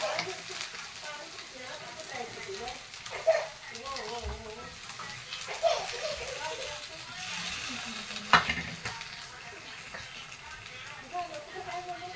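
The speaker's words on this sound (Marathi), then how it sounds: "ह्याला तेलामध्ये परतून घ्यायचं" Paneer sautés in oil for a spiced curry, producing a faint, steady sizzle with occasional soft stirring knocks, heard beneath ongoing speech.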